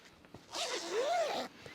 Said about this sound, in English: Do up the zips.